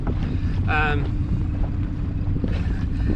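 An offshore fishing boat pushes through a choppy sea, its engine drone and water slap mixed with heavy wind rumble on the microphone, plus a brief tonal squeal partway through.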